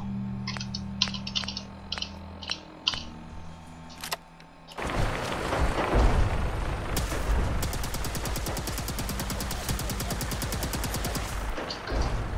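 Rapid bursts of gunfire in the video game Fallout 4, sharp repeated shots building into a sustained automatic volley after a few isolated clicks at the start.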